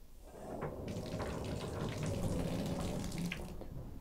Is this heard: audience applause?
no